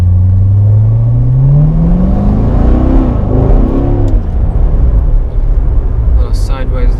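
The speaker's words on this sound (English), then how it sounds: "I'm just driving home now" Car engine heard from inside while driving on a road, a loud steady rumble with a rising rev as it accelerates, continuous throughout, with brief talk near the end.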